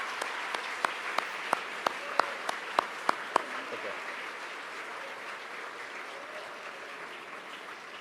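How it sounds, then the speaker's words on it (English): Applause at a high school graduation ceremony: about ten sharp, evenly spaced claps ring out in a steady rhythm over a hall's background murmur, then stop, leaving quiet room noise with a brief spoken word. "we need to honor them with applause"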